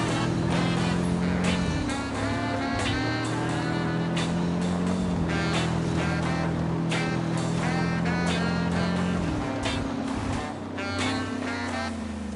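Steady engine drone of a car driven in a video game, pitch stepping up and down with gear changes, continuous and loud with no talk.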